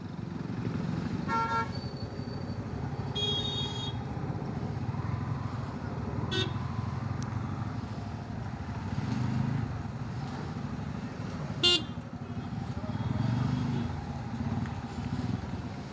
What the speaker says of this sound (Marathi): ट्रॅफिक आहे मित्रांनो फुल।